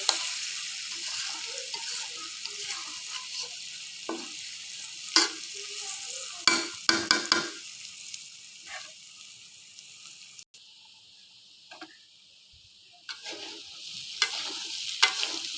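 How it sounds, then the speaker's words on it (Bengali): Red lentils (masoor dal) frying dry in a pan, a continuous close sizzle broken by scraping stirs and a few sharp clicks, quieter in the latter part. "ডালটা আমার ভাজা হয়ে গিয়েছে"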